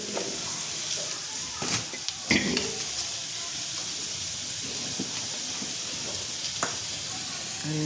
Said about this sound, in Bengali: মশলাটা গুলে কষিয়ে নেওয়া হবে।